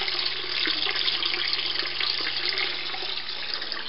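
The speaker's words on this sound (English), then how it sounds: "In order to get a loop siphon to work, you've got to have a little bit more water coming in than going out." Water pours steadily through a loop siphon in an aquaculture tank, a continuous close splashing rush with a faint low hum from equipment underneath.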